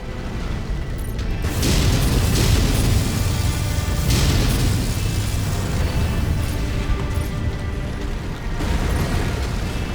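Heavy booming explosions roll through a MechWarrior 5 base as its buildings are destroyed, a dense continuous barrage of deep blasts and crumbling impacts, loud and close with brief pauses between bursts.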